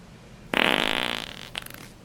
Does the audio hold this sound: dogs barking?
no